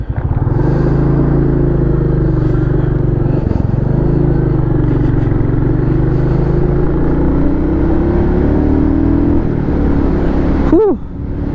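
A Royal Enfield Classic 350 single-cylinder motorcycle engine pulls hard and steadily, its loud close thumping rumble rising in pitch as it accelerates through the gears, with a brief dip and a sharp shift near the end.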